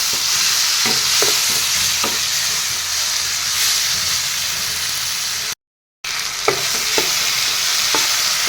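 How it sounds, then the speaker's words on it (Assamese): Chopped tomatoes fry in a hot pan for a carrot and fish curry, giving a loud, steady sizzle with occasional stirring clicks and one brief break. "বিলাহীখিনিও অলপ টাইম ভাজি ল'ম যেতিয়ালৈকে নৰম হৈ নাযায়"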